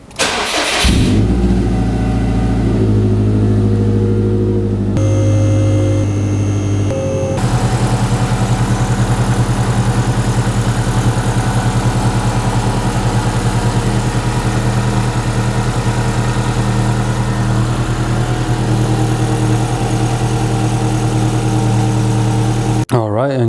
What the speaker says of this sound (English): We're gonna go ahead and turn on the car and lift it up in the air and see how it is.